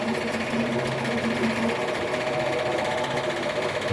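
A machine saw cuts steadily through a metal mounting puck for an overland Jeep project, giving a continuous, close mechanical whir with a rhythmic buzzing edge and no speech.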